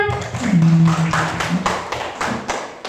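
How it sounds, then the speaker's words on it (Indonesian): Scattered rhythmic hand clapping from a small classroom group, a few claps fading out over a few seconds, mixed with a brief humming voice. "tepuk tangan untuk Amel"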